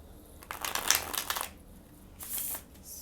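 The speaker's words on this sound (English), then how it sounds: "They feel like a deck of playing cards when you shuffle them." A tarot card deck is shuffled by hand, giving two short bursts of papery riffling and card friction, close and quiet, separated by a brief lull.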